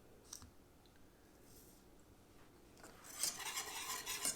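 A whisk works through a kadhi mixture with sugar, fresh cilantro and salt, starting as faint soft stirring and rasping, then turning into a brisker, louder scraping toward the end.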